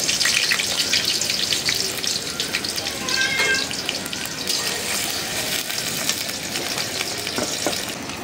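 Chopped onion, garlic and green chili sizzle in hot oil, a continuous crackling hiss with faint stirring clatter and light background noise.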